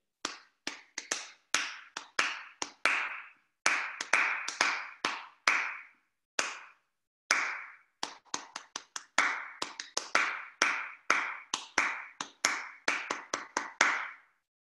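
Hands clap out a rhythm exercise for a music theory lesson: sharp, close claps in quick groups with short pauses between phrases, steady and crisp throughout, no talking.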